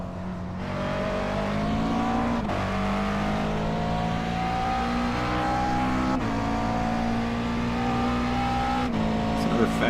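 A McLaren race car engine in iRacing at Sebring drones steadily and loud throughout, its pitch dropping and climbing through downshifts as it brakes into a corner.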